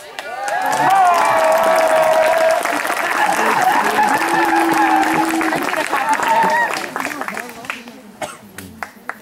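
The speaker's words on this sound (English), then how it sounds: "That's applause." During a 2013 senior class skit, a school audience gives loud, sustained applause mixed with cheers and voices, which thins out into scattered claps near the end.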